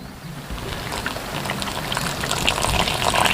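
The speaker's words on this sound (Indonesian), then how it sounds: "Kemudian kita siram air panas." Hot water is poured onto flour and tapioca starch in a bowl, a steady splashing gush that grows louder and fuller as the stream continues, with no speech over it.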